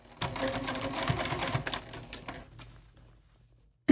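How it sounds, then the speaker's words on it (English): Sewing machine stitching around a quilted edge with a 1/4 inch seam allowance, a close rapid mechanical chatter for about two and a half seconds that slows and stops, leaving quiet. "now all we're going to do is sew around that edge with our 1/4 inch seam allowance"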